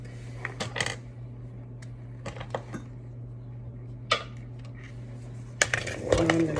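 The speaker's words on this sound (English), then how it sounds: "And I'm gonna stir." Scattered clinks and scrapes of a utensil against a dish while roasted lemon asparagus and chickpeas are stirred, with irregular light knocks over a steady low hum, and a busier clatter near the end.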